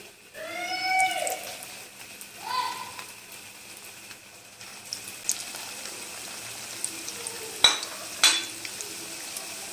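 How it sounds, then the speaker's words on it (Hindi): Chicken mini kebabs fry in hot oil in a pan over a medium flame, giving a soft, continuous sizzle with scattered pops and a few sharper clinks from a utensil. A voice is heard faintly near the start. "इसको हम मीडियम फ्लेम पे फ्राई करेंगे।"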